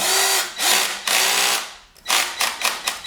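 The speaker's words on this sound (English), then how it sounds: "For your own good, do not follow my example of using a drill." Power drill driving bolts while assembling the handlebars of a GoTrax CTI 3 ebike, several loud whirring bursts of rising and falling pitch, the first three longer and the later ones short and choppy, heard close up with no talk.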